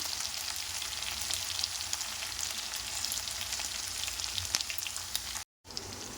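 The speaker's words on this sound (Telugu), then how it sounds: "ఇలా ఫ్రై అయ్యాయి బెండకాయ" Okra and curry leaves fry in hot oil with a steady, close crackling sizzle and faint stirring, cutting out briefly near the end before resuming.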